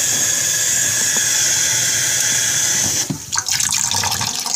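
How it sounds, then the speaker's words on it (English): Water runs steadily from a kitchen tap as a broad, loud hiss that cuts off around three seconds, followed by quieter clatter and rustle. "I got to add some water to that"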